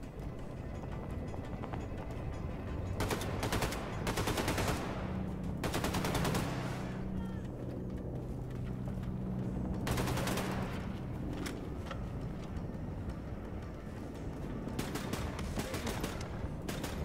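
Mounted machine gun from Wolfenstein The New Colossus firing in several sustained bursts, loud and close, with pauses between volleys and a low rumbling hum under the shooting.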